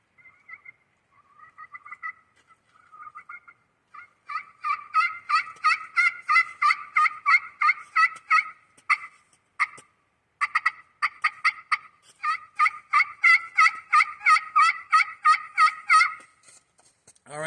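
A turkey pot call played outdoors by breezy woods, giving a near series of raspy yelps and clucks in rhythmic bursts that echo faintly, with no talking.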